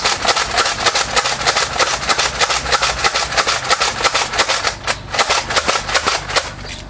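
A powerful video game gun fires in rapid repeated sharp cracks, loud and close, keeping a fast steady cadence for about seven seconds with one short gap near the five-second mark.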